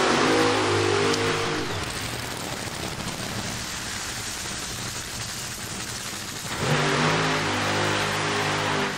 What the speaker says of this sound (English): Antron Brown completes his burnout.